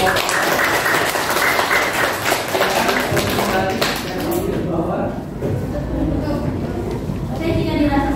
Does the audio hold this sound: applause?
yes